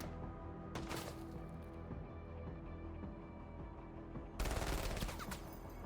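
Machine gun fire in the tactical video game MENACE, a rapid continuous rattle of gunfire lasting several seconds, with louder bursts near the start and near the end.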